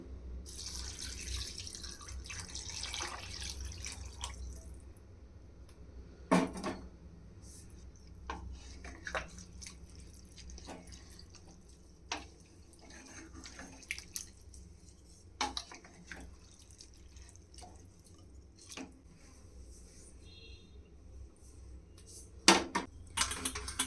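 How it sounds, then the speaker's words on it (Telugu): Water is poured from a glass into a pot of basmati rice, three glasses in all: a rushing splash over the first few seconds, then scattered drips, taps and clinks of the pot. "నేను 3 గ్లాస్ వాటర్ వేస్తున్నా"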